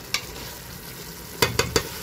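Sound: stirring food frying in a pot

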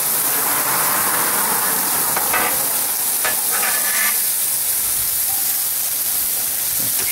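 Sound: stirring sauteing food on Blackstone propane griddle

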